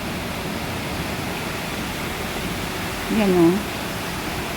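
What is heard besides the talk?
heavy rain and flooding water in a canal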